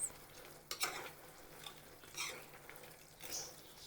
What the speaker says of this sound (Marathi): आता याच्यामध्ये आपण मिरची टाकून घ्यायची आहे आणि व्यवस्थित मिक्स करत घ्यायचं आहे.